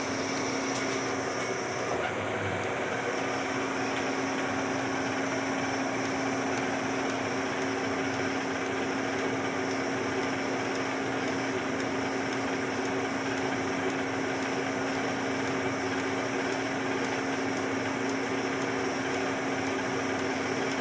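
A redesigned Chinese facing head spins steadily on a machine after oiling, a continuous even mechanical whir with a steady tonal hum running unchanged throughout, close and with no talk.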